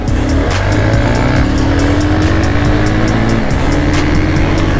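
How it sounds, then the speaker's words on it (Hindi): A car races past with loud, continuous engine roar and rasping exhaust from its silencer, the pitch climbing steadily as it accelerates, filling the whole stretch at close range. "मतलब लक्की की गाड़ी की आवाज क्या मस्त आती है ना, मतलब मजा आ रहा है भाई साइलेंसर की।"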